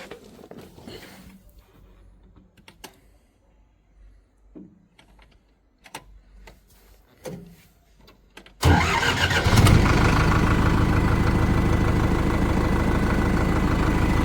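A Powertrac Euro 60 tractor with a 3.6 litre engine starts up after a stretch of quiet clicks and handling noises, then runs at a loud, close, steady diesel idle.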